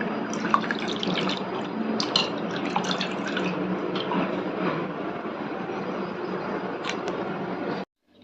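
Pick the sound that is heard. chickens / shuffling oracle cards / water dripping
water dripping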